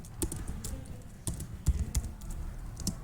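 Fast typing on a computer keyboard while writing HTML, a close, irregular patter of clicky keystrokes with a few heavier taps.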